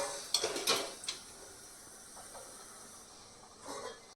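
A plate of thin dhokla batter goes into a steamer, giving a couple of close metallic clinks and a scrape of the dish. A soft hiss of steam follows, with another light clatter at the end.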